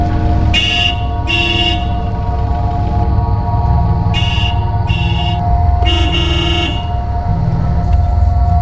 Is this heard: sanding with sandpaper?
no